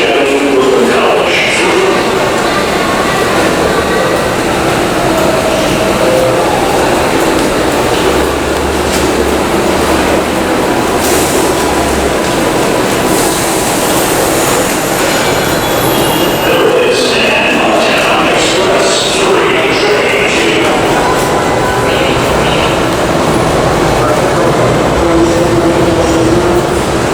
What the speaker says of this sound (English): There is a Downtown Express 2 train to Flushing Brooklyn College.